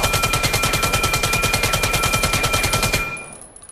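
Rapid automatic AR rifle fire in the VR shooter Vail, a loud close burst of evenly spaced shots lasting about three seconds before cutting off into a faint tail.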